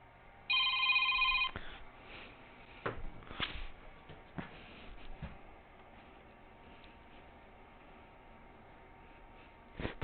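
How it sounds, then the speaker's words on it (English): A telephone rings once in a loud electronic burst of about a second, followed by faint clicks, knocks and handling noises in an otherwise quiet room. "I wonder who this is calling right now."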